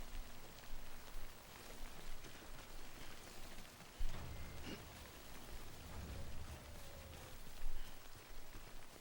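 Rain falls continuously in the Death Stranding video game, a broad steady hiss with scattered heavier drops and low rumbles swelling now and then, no voices over it.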